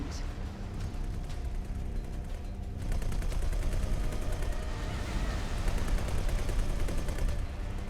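Sustained rapid weapons fire rattles continuously in the space game X4: Tides of Avarice, dense and loud, growing heavier after a few seconds with a low rumbling underneath.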